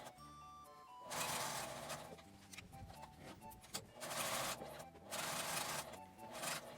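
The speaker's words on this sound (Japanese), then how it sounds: "ここまで縫って返し縫いをします。" A sewing machine stitches and backstitches a seam on a fabric zipper pouch, running in several loud bursts with brief pauses between them, with soft background music underneath.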